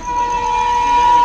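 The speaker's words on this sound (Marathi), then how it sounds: "इंडियन रेल्वे लोकल आलेली आहे आता" A train at an Indian railway station, loud and close, with a steady sustained tone like a horn or brake whine holding over rumbling noise for the whole moment.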